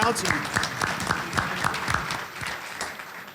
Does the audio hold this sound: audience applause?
yes